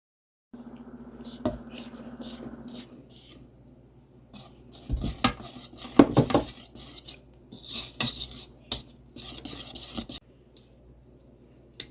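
Dry ingredients being mixed into wet batter for a loaf-pan bake, with a utensil scraping and clinking against the bowl in irregular bursts of stirring, close and fairly loud, without talk.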